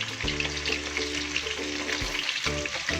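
Chicken pakoda frying until crispy in hot oil gives a dense, continuous bubbling sizzle with a low steady hum beneath it, close and even, with no talking.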